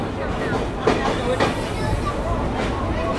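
The Rupsha Bangla Express rolls into Jessore Junction railway station with a steady rumble and clatter from the carriage. A busy platform adds a faint murmur under the train noise.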